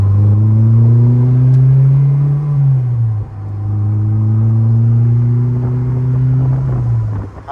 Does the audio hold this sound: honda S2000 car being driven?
yes